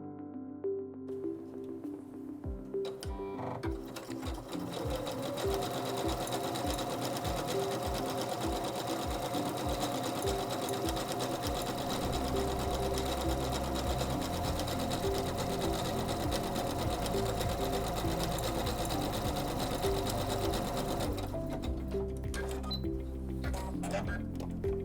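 A Singer C430 sewing machine runs a dense programmable satin stitch with presser foot B, starting in slow ticking strokes and then settling into a loud, continuous mechanical whir that runs for about twenty seconds before stopping.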